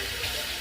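Water running steadily from a tap while a cat is bathed, a brief, even hiss and splash with no voices.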